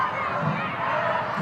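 Crowd at a football match between Brisbane Roar and Sydney FC: a dense, steady roar of many voices cheering and calling in the stadium, filling the whole moment with broad noise and no single voice standing out.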